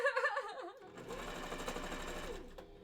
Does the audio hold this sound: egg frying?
no